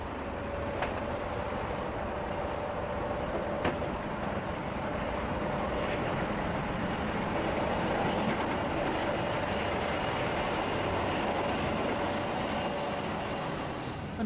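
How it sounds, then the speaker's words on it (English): A Class 47 diesel locomotive pulls hard away from Eastleigh, its loud, continuous engine roar and rumbling wheels filling the whole stretch with no talk. "The 47, diesel's equivalent of the Black Five, seen here scurrying away from Eastleigh like a bat out of hell as it goes in search of its train."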